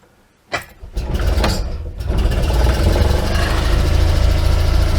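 A vintage Invacar invalid carriage with a centrifugal clutch is cranked and fires up. A short churn of the starter catches quickly and settles into a loud, steady, close-up engine run.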